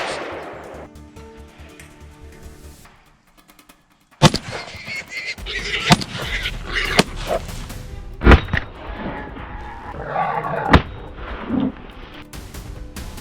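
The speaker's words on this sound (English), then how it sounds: "Gunshots rang out, one after another, and the targets dropped like dominoes." Rifle shots crack one after another at irregular intervals during a wild boar hunt in France, loud and sharp against a background of rustling noise.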